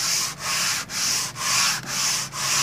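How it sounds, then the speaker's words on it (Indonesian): Coarse sandpaper rubs back and forth along the grain of an acoustic guitar's wooden top, six even rasping strokes with brief pauses between them, close and loud with no voices. "Nah ini terus kita lakukan pengamplasan ini dengan amplas yang pertama-tama agak kasar"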